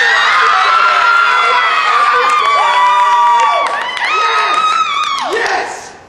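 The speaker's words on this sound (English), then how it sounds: "Clap for Ashley's wedding." A crowd cheers and claps loudly for an upcoming wedding at a live comedy show, bright whoops and shouts layered over clapping, fading at the very end.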